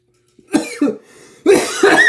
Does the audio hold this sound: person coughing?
yes